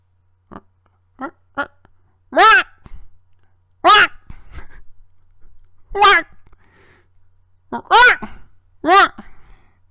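A human voice imitates a dodo bird with a handful of short, loud, nasal honking squawks in an irregular series, separated by pauses filled with softer breathy murmurs, close to the microphone.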